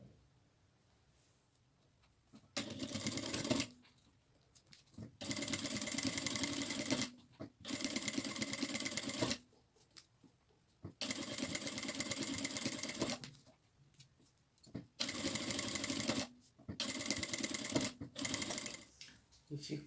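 A sewing machine stitching along the top edge of a fabric backpack: repeated bursts of rapid mechanical chatter lasting a second or two each, separated by short quiet pauses, close and steady, with a voice talking in the gaps.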